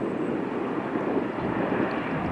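A China Eastern Airlines Boeing 737-800 coming in to land, a steady broadband jet roar held at constant loudness for the whole stretch, with no talk.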